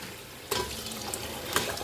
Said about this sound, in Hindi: पानी मैंने इसमें कर दिया पूरा